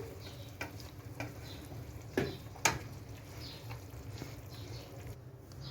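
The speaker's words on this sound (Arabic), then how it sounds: "تحطوا عليه شوية سمنة وتحمصوه" Something toasting in ghee in a pan while trotter soup is prepared, giving a steady low sizzle with occasional stirring scrapes and a couple of sharper clinks, fairly quiet and without voices.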